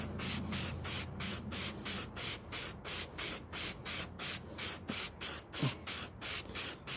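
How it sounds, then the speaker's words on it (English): Black spray paint hisses from an aerosol can onto cardboard terrain in rapid short bursts, a steady rhythmic pattern of close, crisp sprays with brief gaps between them and no talking. "I'm gonna just start spraying them with a little bit of black"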